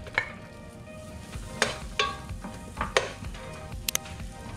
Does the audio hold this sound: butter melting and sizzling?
yes